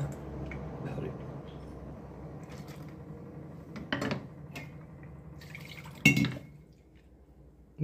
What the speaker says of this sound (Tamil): மிக்சி அலம்பி அந்த தண்ணி ஊற்றிடணும்.